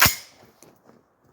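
A single sharp shot from an AR-10 rifle fitted with a Wilson Combat firing pin, loud and close at the start and then decaying quickly into a quiet tail.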